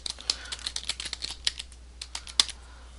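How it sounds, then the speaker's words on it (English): Close, quick computer keyboard typing in an uneven run of clicky keystrokes, a few heavier taps standing out, with no speech. "I'm going to type my caption."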